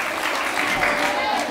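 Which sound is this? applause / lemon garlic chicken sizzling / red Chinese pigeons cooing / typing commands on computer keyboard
applause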